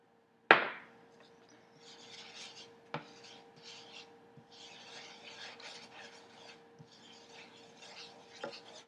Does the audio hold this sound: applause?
no